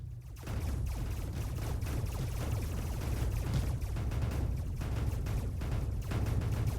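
Explosions and dense weapons fire in the video game Mindustry during a hex PvP battle, a loud, continuous barrage of overlapping booms and crackling blasts sustained throughout with no let-up.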